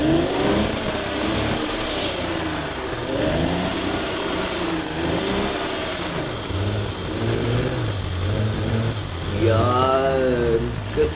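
A car engine revs steadily in low gear for the whole stretch, with a loud, continuous drone that rises and falls and then climbs sharply near the end.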